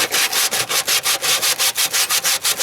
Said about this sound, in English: the next step is to take some sandpaper and